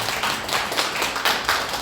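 A church congregation at a Sunday worship service claps in welcome, a dense steady patter of many hands filling the room, close and continuous with slight swells.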